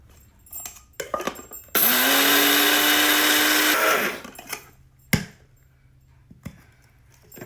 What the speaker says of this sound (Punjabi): ਹੁਣ ਆਪਾਂ ਸਮਾਨ ਗ੍ਰੈਂਡ ਕਰ ਲੈਣੇ ਆ